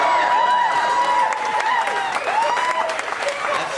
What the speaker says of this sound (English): Notice all the women that are clapping right now.